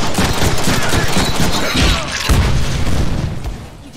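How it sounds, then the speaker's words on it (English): Pistol fire in the Deadpool video game crackles in a dense, loud burst of rapid shots and booms, layered with game effects and faint voices. "Use the pistols on those guys."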